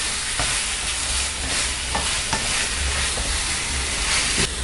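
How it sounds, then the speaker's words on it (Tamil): Chicken sautés in a pan for a Tamil chicken salna, a loud steady sizzle and crackle of frying with occasional scrapes and stirs of a spoon against the pan. "இப்போ நம்ம சிக்கனை போட்டு வதக்கிக்கலாம்."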